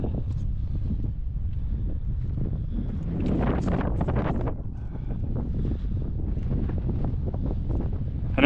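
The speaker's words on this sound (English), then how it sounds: "And as you can tell, the wind's still whipping." Strong wind buffets the microphone during a solo hike on Alaska's Kenai Peninsula, a continuous loud roaring rumble that swells and gusts throughout with no speech.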